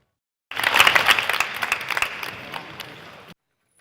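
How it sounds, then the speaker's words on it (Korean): Spectators at a firefighter recruitment fitness exam applaud the runners finishing a 20 m shuttle run, a burst of clapping that swells quickly, then thins and fades over about three seconds. "경쟁 관계지만 박수로 격려합니다."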